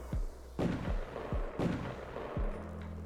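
Fireworks bursting in a Roblox fireworks simulator game: five or six loud, booming blasts at irregular intervals, each a sharp crack that trails into a short rumble, with no talk over them.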